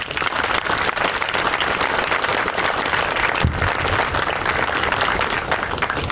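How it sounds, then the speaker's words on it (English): A crowd at a military change-of-command ceremony at Fort Sill gives sustained applause, a dense, steady wash of many hands clapping at once, loud and continuous throughout with no talk over it. "join me in a round of applause, please"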